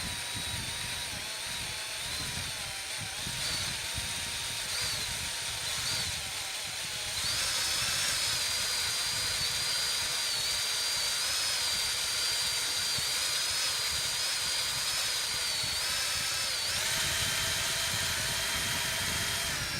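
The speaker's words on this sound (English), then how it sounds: "So now you can see the drill going like that." A power drill running on glass whines steadily and continuously, its pitch rising and holding higher partway through, over a constant mechanical drone.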